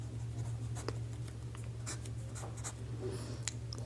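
Pen or chalk writing out a geometry theorem step in a maths lesson, a steady scratchy stroke running throughout over a constant low background hum, with no talking.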